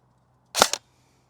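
An airsoft gun firing a .4 gram BB through a chronograph gives one sharp, close crack with a quick second snap right after, then silence.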